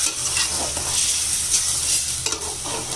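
Broiler chicken pieces are stirred in a very hot pan, a close, busy sizzle with scraping spatula strokes and a few sharper clatters, no voices.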